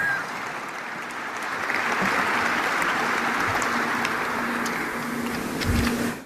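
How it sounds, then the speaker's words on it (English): Audience at the Airbus Canada plant in Mirabel applauds, a broad steady wash of clapping that swells and holds for several seconds, with a few sharper claps and a low rumble near the end. "well, you can clap"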